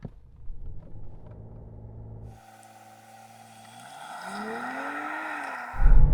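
A BMW 7 Series M performance model of over 2.5 tons launches hard from a standstill, heard from inside: a low steady engine drone gives way to a rising, swelling engine note as it pulls through the gears.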